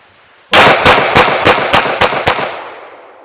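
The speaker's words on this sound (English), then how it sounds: "We're going to try a rapid fire." Kahr CW9 9mm pistol fired rapidly with Remington UMC ammunition: a loud opening report and then about seven more sharp shots in quick, even succession, each ringing briefly with echo, followed by a fading tail and no voices.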